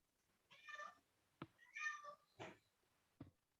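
A cat meows indoors, with four separate meows spaced across a few seconds. They are soft, fairly close and otherwise alone in a quiet room.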